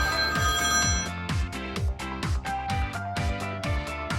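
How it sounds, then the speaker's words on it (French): A mobile phone rings with a repeating electronic ringtone, a loud, regular rhythmic pattern of pulses that stays close and continuous throughout, with no voices. "Cette fois-ci, c'est mon téléphone, désolé."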